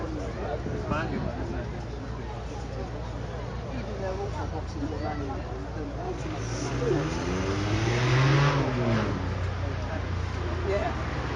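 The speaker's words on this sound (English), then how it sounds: "That flat six sounded absolutely superb." A Porsche Carrera S flat-six with a sport exhaust revs at a supercar gathering, its pitch climbing and falling in sweeping pulls while crowd babble murmurs underneath.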